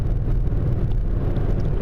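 Low, steady engine and road rumble fills a moving car from inside while the driver films, with slight shaking and no talk.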